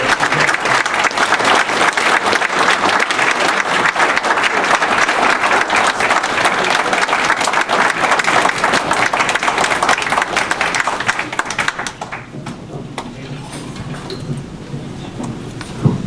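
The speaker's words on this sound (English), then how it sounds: "if we can give them a big round of applause for taking time out of their very busy schedule." Dinner audience at a scholarship dinner applauding the judges, sustained loud clapping filling the room for about twelve seconds before thinning and fading into scattered claps.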